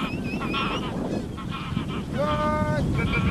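Geese honking repeatedly over steady, strong wind-like rumble, several calls overlapping, fairly close and loud.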